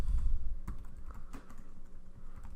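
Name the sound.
typing business name on a computer keyboard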